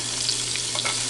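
Onions sautéing in olive oil in a pan, a brief steady sizzle with faint stirring scrapes, close and moderately loud, no voices.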